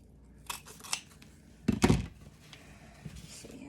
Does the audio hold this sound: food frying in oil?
no